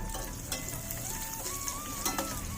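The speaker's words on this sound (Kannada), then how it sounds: "ಈಗ ಗೋಡಂಬಿ ಹಾಕ್ತಾ ಇದ್ದೀನಿ. ಗೋಡಂಬಿ ಕೆಂಪಾಗ್ತಾ ಇದೆ. ಇವಾಗ ಇದಕ್ಕೆ ದ್ರಾಕ್ಷಿ ಹಾಕೋತಾ ಇದ್ದೀನಿ." Cashews and raisins frying in a teaspoon of ghee in a pan, a steady close sizzle with small crackles and spatter bursts throughout, with no voices.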